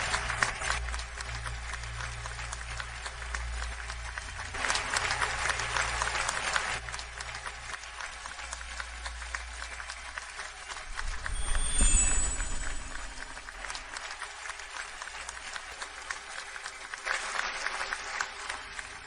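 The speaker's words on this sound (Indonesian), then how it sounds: "Sekarang beri tepuk tangan meriah untuk menyambut pasangan baru." Loud, sustained applause from a crowd welcoming a newlywed couple at a wedding reception, clapping continuously throughout with a brief swell near the middle.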